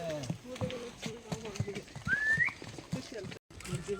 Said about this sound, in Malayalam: പാവം കുതിരകളുണ്ടോ. ഒരു ദിവസം അവർ എത്ര കുന്ന് കയറുന്നു നോക്കിയാൽ.